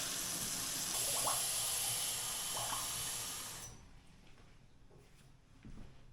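Tap water gushes steadily into a kitchen sink with a broad hiss for a few seconds, run until warm, then shuts off, leaving quiet kitchen noises and a faint clunk.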